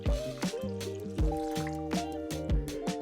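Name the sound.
pouring 2 cups of water into turkey seasoning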